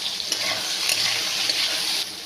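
Soybean chunks frying in oil with turmeric and salt in a home kitchen pan, a steady close sizzle with faint stirring scrapes throughout, no talking.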